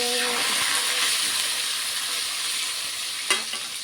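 Potatoes fry in a pan with a continuous hissing sizzle, joined by a brief hum at the start and a sharp scrape of stirring near the end.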